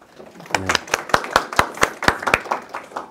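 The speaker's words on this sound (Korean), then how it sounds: "여러분들한테도 정말 박수를 보내고 싶어요" Clapping at an audio product demonstration event, a few people's sharp, distinct hand claps in a fairly steady rhythm, close and clear, with a brief voice at the start.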